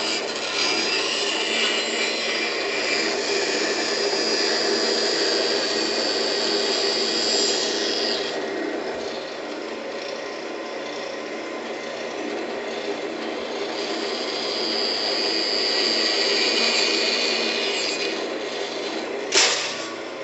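A power saw cuts through wood for a small Christmas sled, a steady whining, rasping drone held for about twenty seconds with slight shifts in pitch as the cut proceeds, ending with a brief clack.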